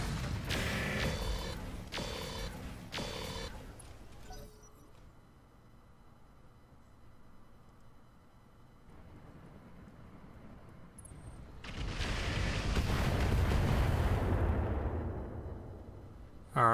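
Mech weapons fire in the Roguetech mod of BattleTech: a quick run of booming, crackling shots up front, a quieter mechanical stretch, then a long rumbling barrage of blasts and debris that rolls on loudly before fading.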